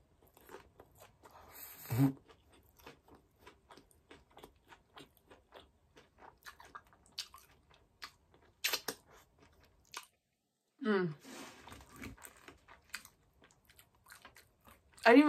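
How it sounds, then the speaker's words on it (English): Crunchy Taco Bell tacos being bitten and chewed up close, with sharp crisp bites and a run of quieter wet crunching chews between them. "So much crunch."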